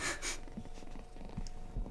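A cat with a slight cold purring close by, soft raspy purring and snuffly breaths that come in short pulses, fairly faint.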